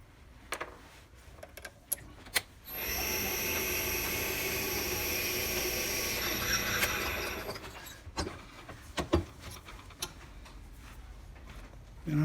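Drill press boring a 19/64 bit into a pen blank, a steady whirring grind of about five seconds between scattered clicks and taps of handling.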